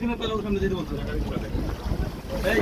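A crowded passenger boat moves across open water with a loud rushing wash and wind buffeting the microphone, while people shout and talk over it.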